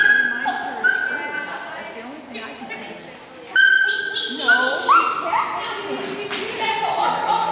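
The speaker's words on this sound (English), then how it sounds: "That's the puppy." A puppy yips and whimpers repeatedly in high, wavering cries, close by, with short barks mixed in.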